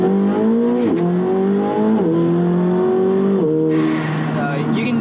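A McLaren 720S V8, tuned to 900 horsepower, pulls hard under acceleration, its engine note climbing steadily and dropping sharply at each of several quick upshifts, loud and close from inside the cabin.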